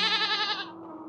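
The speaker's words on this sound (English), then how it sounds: "There's the missing goat." A goat in the video game REKA lets out a single drawn-out nasal bleat, clear and close, trailing off into quiet after about half a second.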